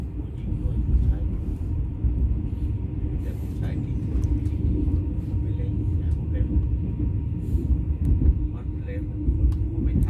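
A DD51 diesel locomotive coupled to stone-dumping ballast wagons idles at Wang Kluai station, giving a steady, close, low engine rumble that holds throughout, with someone talking over it.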